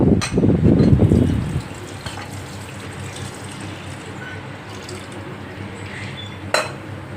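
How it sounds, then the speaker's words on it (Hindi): Oil pours briefly into a metal pressure cooker with a splashy gurgle, then stops, leaving quiet room noise and a faint clink. "ये तेल हम इसमें डाल देंगे।"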